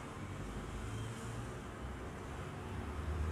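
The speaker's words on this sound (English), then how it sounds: "I can hear a lot of car noises, but actually no cars." Car traffic ambience from the Train Sim World 2 video game on a pier setting, a steady low rumble of road noise with no distinct passing vehicle, faint and continuous throughout.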